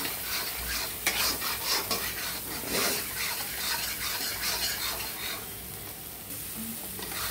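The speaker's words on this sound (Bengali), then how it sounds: "মশলাটা কষে গেছে, দেখতে পাচ্ছ সুন্দর করে ফ্রাই করে নিয়েছি মশলাটা।" Spice paste for a Bengali-style egg curry frying in a pan, a close, constant sizzle with repeated rough scraping and rubbing as a spoon stirs it, easing slightly near the end.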